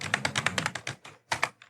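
Rapid keystrokes on a computer keyboard while an HTML paragraph element is typed, a quick run of close, crisp clicks, a short pause, then a few more taps, alone without talk.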